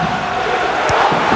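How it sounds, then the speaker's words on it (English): A rugby crowd at a Perpignan versus Castres match, with Perpignan just taking the lead, roars steadily in a large stadium, with brief louder shouts and cries rising out of the sustained noise. "apparently the crowd is waking up"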